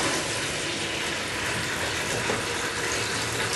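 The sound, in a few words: filling a white polythene bucket with cold water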